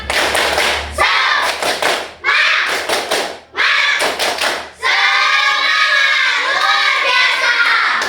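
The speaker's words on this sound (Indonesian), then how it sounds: "ayo kita tepuk semangat dulu biar semangat dari awal pelajaran sampai ke akhir ya" Schoolchildren in an elementary classroom perform the tepuk semangat spirit chant, clapping in rhythmic groups of sharp hand claps, then shouting together in a loud unison chant near the microphone.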